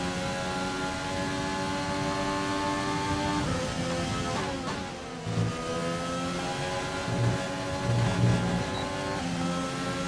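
A Ferrari race car drives on track, its engine a loud, steady high-pitched drone throughout, with brief dips and surges in revs as it shifts and accelerates through corners.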